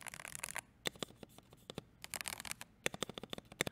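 An IF98 full-size custom mechanical keyboard is typed on in sharp, clustered keystrokes, close and crisp, with irregular bursts of rapid clacks separated by short pauses.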